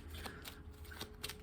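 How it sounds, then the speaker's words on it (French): Oracle cards being turned over one after another, with soft papery flips and light card shuffling, close and quiet, no talking. "Je vais d'abord les retourner les 3."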